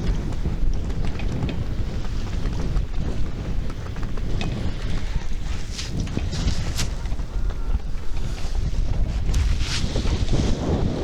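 Wind blowing over a lake buffets an Ion Air Pro 3 camera microphone, a loud, steady low rumble with gusting roar that runs unbroken throughout.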